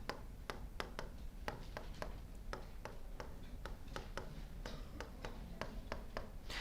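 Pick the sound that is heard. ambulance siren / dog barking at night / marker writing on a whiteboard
marker writing on a whiteboard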